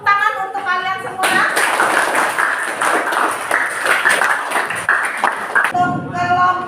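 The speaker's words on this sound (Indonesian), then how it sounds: "Tepuk tangan untuk kalian semua." A classroom of students claps for their completed explanation-text projects, a dense burst of applause lasting several seconds, with speech just before and after.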